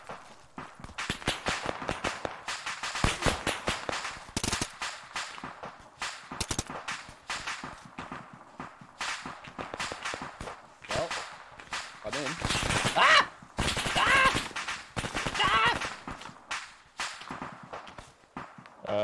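Automatic machine gun fire crackles in rapid, uneven bursts of sharp reports, fairly loud and close, with heavier clusters toward the end and voices mixed in.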